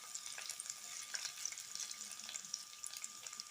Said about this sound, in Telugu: మంచిగా వేయించేయండి ఫ్రెండ్స్. తాలింపు అంతా కూడా వేయించుకోవాలి మనం.